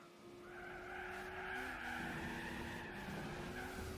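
A car drifts with a sustained tire skid in the Gran Turismo 4 racing game, a steady squealing whine layered over engine drone, continuous and moderately loud for the full few seconds.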